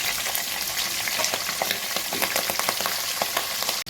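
Peanuts and green chillies fry in a pan with a continuous loud sizzle and crackle, spattering pops scattered throughout, close up with no voices.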